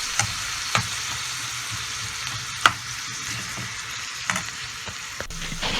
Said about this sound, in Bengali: সাথে 1টি বা 2টি টমেটো কেটে দিব এভাবে এবং এটাকেও ভেজে নিব